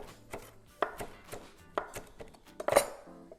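A knife chops fresh cilantro on a cutting board in a home kitchen, giving a quick irregular run of close, crisp thuds with no talking.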